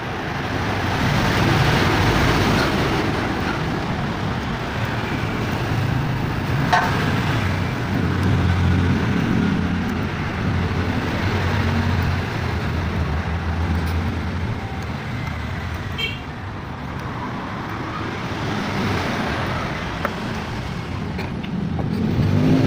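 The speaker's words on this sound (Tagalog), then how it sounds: "maingay naman dahil tabing kalsada lang tayo" Roadside traffic streams past continuously, a loud broadband wash of passing car engines and tire noise with occasional surges as vehicles accelerate by.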